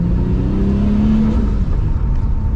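A big-turbo Nissan R32 GTR engine revs close by, a loud continuous rumble with a rising then fading turbo tone.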